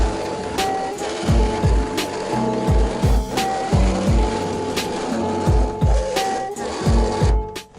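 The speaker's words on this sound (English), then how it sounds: "I'm going to use this drill bit to clean up the edges of the holes" A power drill with a deburring bit whirs in repeated short bursts against metal, cleaning the edges of holes in Mazda MX-5 Miata NA frame rails, with grinding and rattling between pulses, close and loud.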